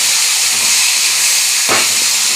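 Onion and tomato sizzle loudly in hot oil in a pan for a Bengali bhetki fish-bone chochchori, a dense continuous hiss with a brief clatter near the end.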